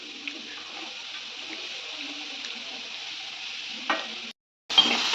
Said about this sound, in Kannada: ಇಲ್ಲಿ ಕಡಾಯಲ್ಲಿ ಟೊಮ್ಯಾಟೊ, ಈರುಳ್ಳಿ, ಬೆಳ್ಳುಳ್ಳಿ, ಕೊಬ್ಬರಿ ಹಾಕಿ ಫ್ರೈ ಮಾಡ್ತಾ ಇದ್ದಾರೆ